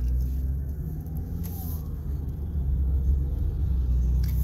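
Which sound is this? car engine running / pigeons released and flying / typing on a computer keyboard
car engine running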